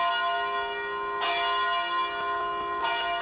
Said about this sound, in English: the news rang from the bell tower of Mariners Church, echoing throughout the streets of Detroit.